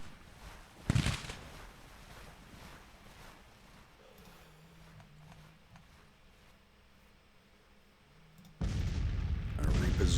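Artillery fire in the Grand Tactician Civil War strategy game, two loud booming blasts, one early and a longer heavy roar near the end, over quiet ambient battlefield background.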